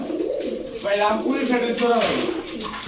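A pair of Rampuri pigeons coo in a few short close calls, with fluttering and other faint background sounds around them.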